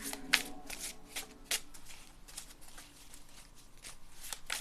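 Tarot cards are shuffled by hand in a quiet room, a series of soft riffling bursts and light taps with brief pauses between them.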